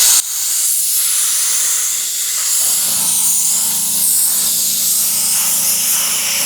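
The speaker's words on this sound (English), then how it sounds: "Compressor finally kicked on." A small air compressor in a makeshift spray-painting setup kicks on partway through, a low steady motor hum rising beneath a loud continuous hiss of air that fills the whole clip.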